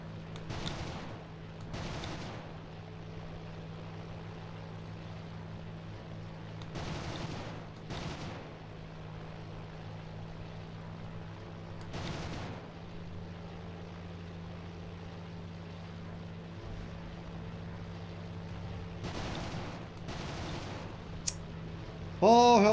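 Heavy booms of artillery and gunshots fire in irregular bursts over a constant low engine drone in a simulation video game, with no voices.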